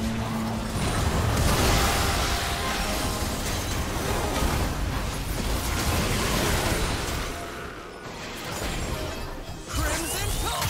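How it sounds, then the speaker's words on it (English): A League of Legends turret being destroyed in a top-lane match: a loud, dense rush of crashing, shattering debris and whooshing impact noise that holds for most of the stretch, easing briefly near the end before swelling again. "Red team's turret has been destroyed."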